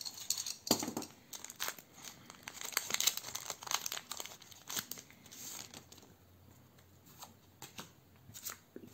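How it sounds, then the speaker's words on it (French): Pokémon 25th Anniversary Celebration booster packs sliced open with a utility knife, producing close crinkling foil wrappers, sharp cutting scrapes and rustling card shuffles in irregular bursts, loud then quieter. "Ouvrir des boosters au cutter n'est pas une très bonne idée."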